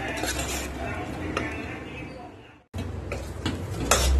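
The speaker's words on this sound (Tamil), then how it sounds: "பருப்பு நல்லா வந்துருச்சு, நல்லா மசிச்சுக்கலாம்." A metal spoon scrapes and clinks in a pot as cooked green gram lentils are mashed for payasam, with short knocks and a brief pause midway before the tapping resumes.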